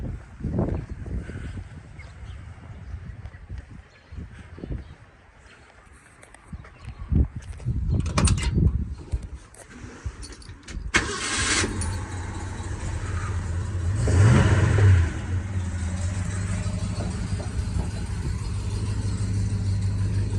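A 1970 Ford F-250 truck's 360 engine, two-barrel with single exhaust, cranks and catches, then revs up and settles into a steady, loud rumble that continues idling.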